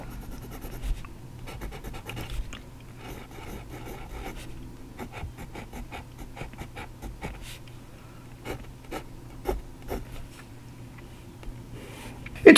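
Fountain pen with a plain steel nib writing on paper: faint, close scratchy strokes in a quiet room, with brief pauses between lines.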